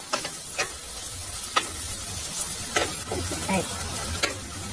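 Garlic and ginger sizzle in hot oil in a pan for a spicy green chilli chicken, with a soft steady frying hiss broken by scattered scraping clicks from a stirring spoon, close and fairly quiet.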